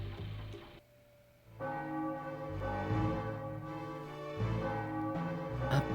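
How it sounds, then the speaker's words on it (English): A bell rings out in Final Fantasy IX, several deep resonant tolls sounding one after another with long ringing overtones, clear and alone. "A bell's ringing."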